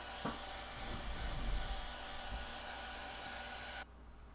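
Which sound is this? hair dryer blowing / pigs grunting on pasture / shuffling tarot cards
hair dryer blowing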